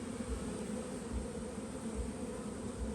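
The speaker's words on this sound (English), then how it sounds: "I just blew on the bees to move them out of the way so you guys can get a good shot." Honey bees on a hive frame from a recently installed package colony give off a steady, close, droning buzz at an even level, with a faint low rumble pulsing underneath.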